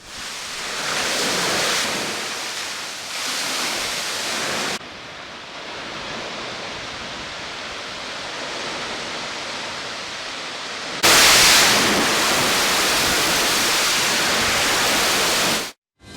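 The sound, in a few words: water being released from a dam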